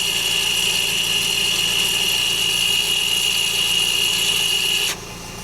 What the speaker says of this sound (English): we should hear the motor start running